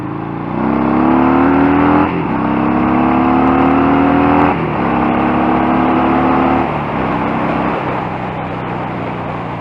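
A Harley-Davidson Fat Bob with a 114 engine roars in several loud revving bursts on an open road, each surge swelling and dropping back in turn, close and dominant with no voices.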